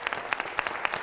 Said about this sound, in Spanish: Un aplauso para nuestro abogado.